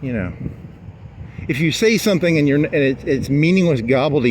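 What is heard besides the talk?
No everyday noise stands out behind the speech.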